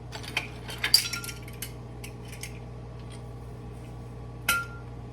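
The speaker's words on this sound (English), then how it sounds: "so now you can stir it all up here" A spoon stirs a drink mixture in a glass, giving a few sharp, close clinks at the start and one more near the end, over a steady low hum.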